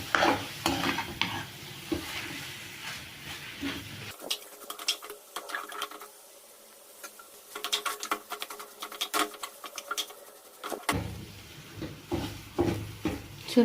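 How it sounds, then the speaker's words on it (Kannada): A spoon stirs potato filling with salt and turmeric for capsicum and chilli bajji, giving close, busy scraping and patter against the pan, with a quieter stretch midway before the stirring picks up again. "ಸೊ ಇದನ್ನು ಅರಿಶಿನ ಎಲ್ಲ ಹಾಕಿ ಚೆನ್ನಾಗಿ ಮಿಕ್ಸ್ ಮಾಡೋಣ"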